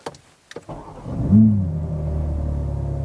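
A few clicks, then a BMW M3 Touring engine cranks and fires up with a sharp rev before settling into a steady, loud idle rumble.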